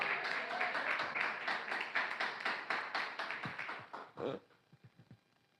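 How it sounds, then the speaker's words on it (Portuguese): A church congregation claps in victory applause, a dense, steady run of many hands that fades into a few scattered claps at the end, fairly distant. "Palmas de vitória."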